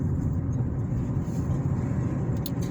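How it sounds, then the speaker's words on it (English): Continuous road traffic in Pendleton, Indiana rolls past as a steady low rumble of cars and engines, moderately loud, with a faint higher whine drifting in near the end. "the traffic here in Pendleton is ridiculous."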